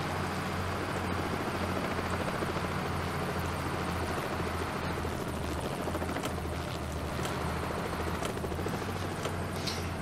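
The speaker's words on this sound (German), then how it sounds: "Der Helikopter." A helicopter thrums overhead in the video game Bus Driver, a steady rotor chop with a constant engine whine that holds loud and even throughout, with no talking.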